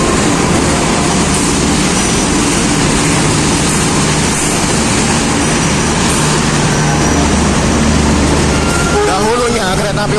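The Mutiara Timur passenger train rolls into Jember station in a loud, continuous wash of wheel rumble and rail noise, close by and steady throughout, with a brief squeal near the end.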